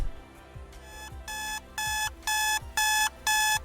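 A pomodoro clock timer sounds its break alarm: a run of bright electronic beep bursts, each about half a second long, repeating at a steady pace and growing louder, with faint low ticks beneath.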